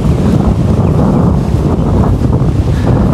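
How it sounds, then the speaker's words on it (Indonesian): Strong, hot wind blows at a lakeside, roaring steadily and loudly into the microphone with a dense rumbling buffet and no pause, and no voices are heard. "Dan ini anginnya, walaupun angin kenceng, tapi bukan angin menyegarkan, Dur."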